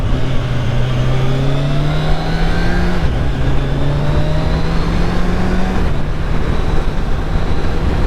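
A 2021 Kawasaki Ninja 1000SX sport bike engine drones loudly and continuously while riding, pitch climbing through the gears with two shift drops, strong and close with wind rush and no talking.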